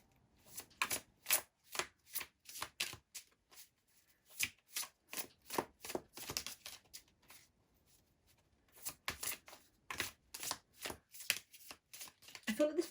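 Tarot cards shuffled in quick repeated riffling bursts, close and crisp, with a short pause midway before the rapid flicking resumes.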